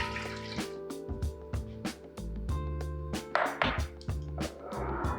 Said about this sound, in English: Our chicken broth going right in first.